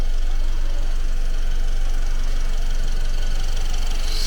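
A car engine idles steadily just after an engine repair, a continuous low rumble with faint vibration running evenly throughout, with no voices over it.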